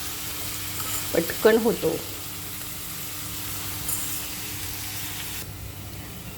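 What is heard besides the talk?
onion frying with salt in a pan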